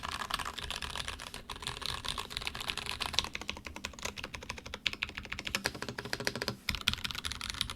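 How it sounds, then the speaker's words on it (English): Continuous close typing on a Rama U80A keyboard with its top case removed, fitted with TKC Kiwi switches and GMK DMG keycaps, a steady, fast clatter of keystrokes with no talking. "Without the top case, it sounds funny, but it doesn't sound bad because the Kiwis are good switches."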